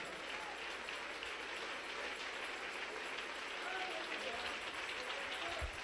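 A church congregation claps together in a steady, dense patter that is fairly faint, with a voice speaking faintly underneath.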